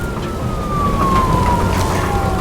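A police car siren from the video game Nobody Wants to Die wails loudly with a slowly falling tone over a steady rumble of engine and road noise.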